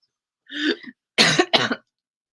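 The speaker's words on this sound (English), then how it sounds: "I laughed and coughed at the same time." One short, close cough-like burst, followed by two harsher coughs in quick succession, then silence.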